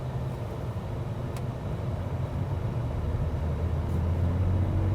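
Rolls-Royce Phantom accelerating, heard from inside as a smooth low engine and road rumble that gradually swells in loudness, with no talking.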